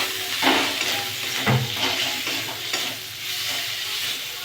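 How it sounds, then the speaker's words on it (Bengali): Spiced masala with tomato, chilli powder and salt being fried and stirred in a pan, a steady close sizzle with scraping stirs and a few spatula knocks throughout. "মশলাটা কষে নেবো ভালো করে"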